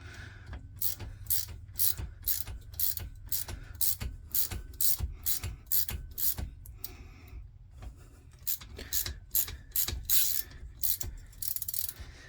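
A ratchet clicks rapidly in close, repeated runs while backing a long bolt out of an axle bearing housing on a 1986 Honda 350X, with short pauses between strokes and no speech.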